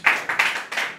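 A few sharp hand claps in quick succession at a church service, close and fairly loud, with no talking.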